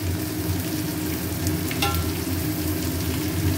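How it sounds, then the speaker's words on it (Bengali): Onions and potatoes fry in oil in a pan, with dry red chillies tempered first, giving a steady close sizzle throughout with a brief brighter crackle partway. "পেঁয়াজ ভাজার সঙ্গে আলুগুলো ভেজে নেব"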